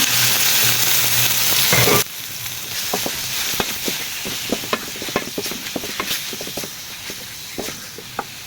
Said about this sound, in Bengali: এখন আমি এখানে চিকেনগুলো অ্যাড করে দেব।